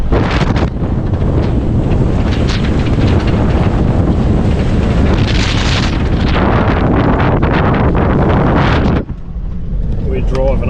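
A vehicle rattles and rumbles over a corrugated dirt road in a loud, continuous, juddering roar with heavy wind buffeting the microphone, then the noise suddenly drops near the end as the ride smooths out.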